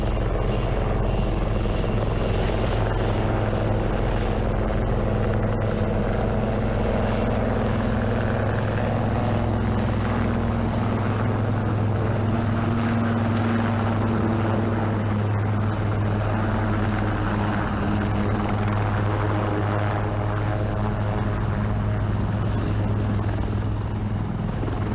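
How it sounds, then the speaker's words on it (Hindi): An HAL Dhruv helicopter flying in with special forces at a defence expo, a continuous loud rotor and engine roar with a steady whine, holding at an even level throughout with no talking. "अब अपना ध्यान आसमान की तरफ ले जाएं, जहां हिंदुस्तान एरोनॉटिक्स लिमिटेड द्वारा निर्मित ध्रुव हेलीकॉप्टर का प्रयोग करके बाकी के स्पेशल फोर्सेस दुश्मन के एरिया में आ रहे हैं।"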